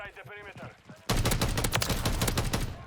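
Rapid bursts of Sidewinder gunfire from Call of Duty MW3 start abruptly after a brief spoken moment, then continue as loud, dense, overlapping shots to the end.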